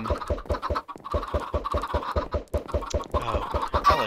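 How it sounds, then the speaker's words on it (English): Chickens in a video game cluck in quick, rhythmic bursts, with soft repeated pulses running almost continuously at moderate volume. "I like chickens. You guys like chickens?"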